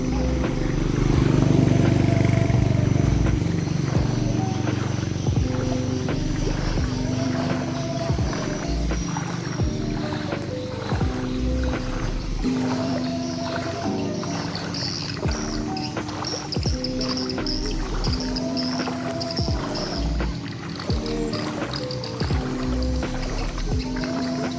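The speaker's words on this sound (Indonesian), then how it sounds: "udah nyala lagi motornya." A motorbike engine runs again in floodwater at Bangkuang, holding a steady, close, throbbing hum with rhythmic pulses throughout. Faint voices sit in the background.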